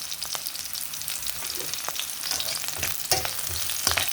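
Tempering for a fresh coconut and ivy gourd chutney sizzles in a hot pan, a continuous crackling fry with occasional sharp pops and light stirring, close and with no talking.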